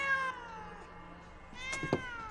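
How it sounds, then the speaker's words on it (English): A cat meows near its food in a domestic scene, with a drawn-out, wavering call and a short, sharper meow near the end over a quiet background. "There's a cat eating its food."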